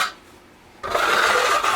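After a moment of near silence, a trowel scrapes floor adhesive across a floor in a continuous, close gritty rasp during a floor replacement.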